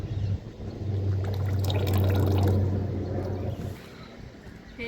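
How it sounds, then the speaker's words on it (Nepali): Cooking oil pours into a mixture of wheat flour and water for homemade soap, a steady liquid glug and trickle, close and continuous, with no voices. "यो गहुँको पिठो र पानी घोलेको ठाउँमा तेल 1 लिटर हाल्यौँ"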